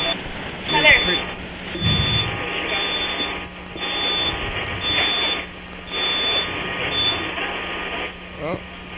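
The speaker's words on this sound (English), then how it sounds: "There's some of that beeping. That's when every time that those fries get hot," A fast food restaurant's fryer timer beeps in a repeating pattern of short high tones, continuing through busy restaurant background noise and murmuring voices.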